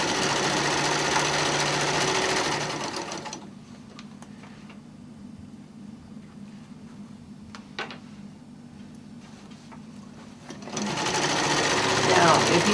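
A sewing machine runs a quilt seam in loud, continuous whirring stretches at the start and end, with a quieter gap between them filled by faint clicks and handling sounds.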